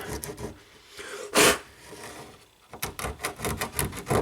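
A small bicycle tire lever spreads stubborn silicone sealant across metal, making close, uneven rubbing and scraping strokes with a few sharper swipes and brief pauses.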